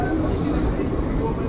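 Kolkata–Digha special train 03161 rolling slowly through Kolaghat after crossing the Rupnarayan river bridge, a steady low rumble of the carriages that fills the whole stretch without clear wheel clicks.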